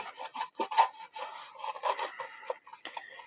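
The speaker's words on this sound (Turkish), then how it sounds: "bu şekilde suyla durulama yapmadan böyle siliyoruz temizleyeceğimiz yere" Close, steady rubbing and light scraping as a burst night-lamp bulb is wiped clean without any water rinse, continuous small strokes with no talk.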